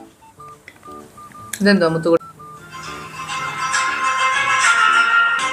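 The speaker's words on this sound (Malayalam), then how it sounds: "അപ്പയുടെ ഫോൺ അടിക്കുന്നു" A father's mobile phone rings at home with a melodic electronic ringtone of repeated tone patterns, heard under a brief burst of people talking, then continuing with brighter, denser chiming.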